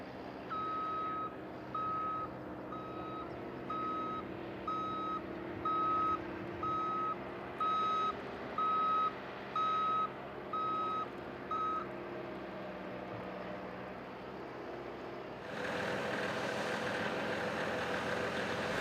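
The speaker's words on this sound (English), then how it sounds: "The loader backs up so a tow strap can be hooked up" A loader backs up across a parking lot, its reversing alarm beeping in a steady repeating rhythm over a low idling engine rumble, then the beeps stop and a louder broadband noise takes over.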